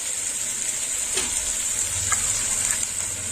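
Tomato paste fries with spices in hot oil in a pan for a green banana ball curry, giving a steady, close sizzle with a few faint stirring clicks and no talking.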